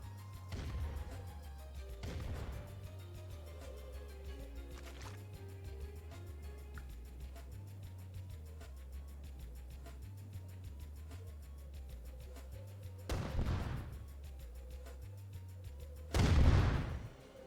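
Gunfire from units in the real-time strategy game Red Alert Remastered, a few sharp bursts spaced apart over a low humming game soundtrack, with a louder shot near the end.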